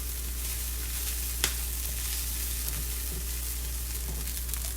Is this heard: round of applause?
no